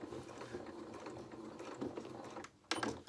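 A home sewing machine stitches fabric for a toy rabbit's legs, a close, rapid mechanical whirring with a short pause before the motor starts up again.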